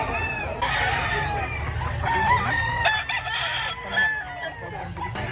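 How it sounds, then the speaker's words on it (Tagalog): Chickens and roosters at a roadside pet market in San Jose del Monte, Bulacan, with repeated crowing and clucking from several birds, near and continuous, over a busy crowd murmur. "Puro manok yan."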